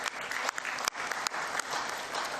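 Delegates at a football confederation general assembly clap for a passed resolution, a brief burst of scattered, somewhat distant hand clapping with a few sharper individual claps.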